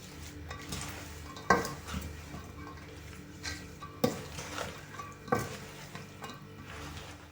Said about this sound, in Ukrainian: І все гарно перемішуємо.